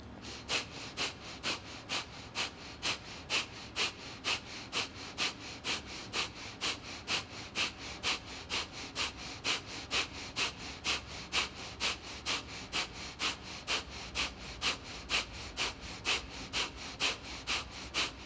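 Steady, forceful breathing during a vinyasa yoga practice: sharp, rhythmic exhalations through the nose at about two per second, repeating evenly throughout, close to the mic and without speech.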